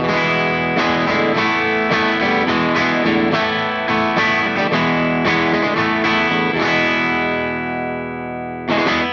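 An electric guitar through a lightly overdriven amp at the edge of breakup, with a Marshall-like tone, strums chords with a gritty edge, ringing out and fading before one last strum.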